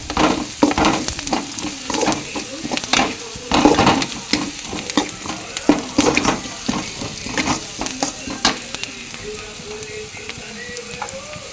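Lemon rice seasoning with turmeric being stirred and fried in a pan, with loud continuous sizzling and repeated scraping strokes of the spoon across the pan, close and steady throughout with no talk.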